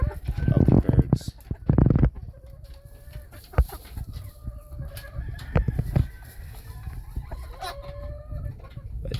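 Game hens in barrel pens cluck and squawk close by, starting with loud bursts of flapping and calls and then settling into scattered clucks, with occasional faint crowing farther off.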